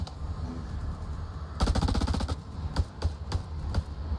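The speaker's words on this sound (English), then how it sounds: "I had to turn my volume down with all that gunfire." A rapid burst of machine gun fire in the video game House of Ashes rattles for about a second, followed by a few scattered single shots, loud and close.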